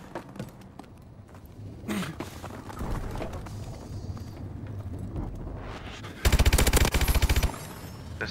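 Gunfire in Call of Duty: Advanced Warfare, scattered shots early on and then a loud, sustained automatic burst lasting over a second near the end, with no talking over it.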